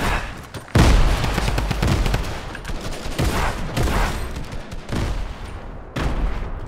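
Rapid automatic AK rifle fire in the video game Fortnite, dense bursts of gunshots and booms running almost continuously, loud and close throughout with brief dips between volleys.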